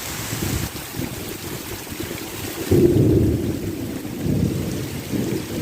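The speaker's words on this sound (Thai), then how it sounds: "ดูฝนตกขนาดนี้" Heavy rain pours steadily behind a house in a thunderstorm, a dense broadband wash with a louder surge of low rumble midway, like thunder rolling nearby, with no talking.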